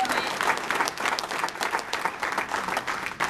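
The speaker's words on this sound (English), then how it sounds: "So you should give yourselves a round of applause" A crowd of activists at a New Hampshire council gathering applauds, dense continuous clapping at moderate volume with a faint murmur of voices underneath.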